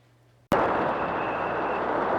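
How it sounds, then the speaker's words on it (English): A Delta II rocket launches from Vandenberg Air Force Base through fog and thick clouds, with a sudden loud onset that settles into a sustained, dense roar after a brief quiet start. "Thrusting through the fog and the thick clouds, the Delta II rocket launched from Vandenberg Air Force Base for its last flight ever"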